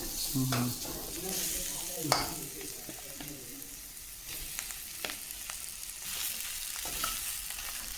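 Boiled, mashed potatoes with turmeric and spices sautéed in a pan for a spicy aloo roll filling, a soft sizzle under irregular scraping and stirring strokes, with a sharp clink of the utensil early on.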